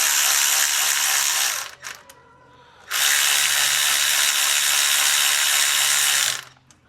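A ratchet snugs up bolts on a Ford Ka after sealer has been applied, giving two long, loud bursts of rapid clicking close by, separated by a short pause, with no talk.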